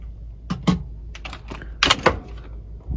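Typing on a wireless computer keyboard, a few scattered keystrokes and clustered clicks close up over a low background hum.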